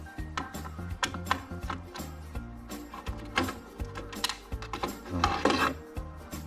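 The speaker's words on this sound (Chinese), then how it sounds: "这一块应该可以拿起来。" Plastic panel and parts of a TECO MD1401WA dehumidifier rattle, scrape and clunk as the panel comes off after four screws are removed, in irregular close knocks and rubs, with one brief spoken word.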